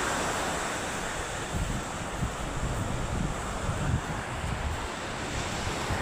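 Sea waves wash and surge under steady wind that buffets the microphone, a dense continuous roar with no voices.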